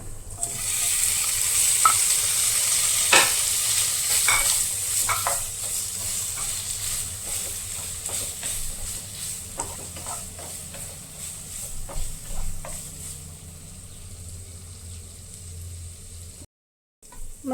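Paneer added to a hot pan with ginger garlic paste for paneer butter masala sizzles loudly and steadily, with scattered scraping clicks as it is stirred, the frying gradually fading toward the end.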